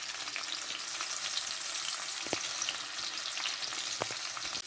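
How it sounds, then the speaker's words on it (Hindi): Garlic and green chillies fry lightly in a pan for a soft, even sizzle at low volume, with a couple of brief stirring knocks and no talking. "ये जो लहसुन है ना, ये बस थोड़ा सा हम इसको फ्राई करते हैं"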